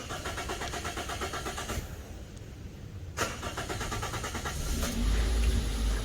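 A 2013 Toyota Etios Liva engine cranks and catches, its starter churn giving way to a steady, close idle that rises slightly in level toward the end.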